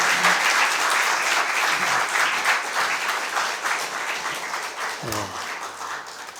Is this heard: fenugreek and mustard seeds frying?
no